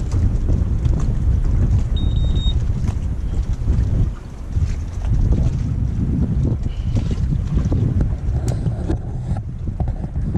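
Wind buffets an anchored sailboat offshore in the Mediterranean, a loud, continuous rush with gusts and occasional creaks and knocks from the boat.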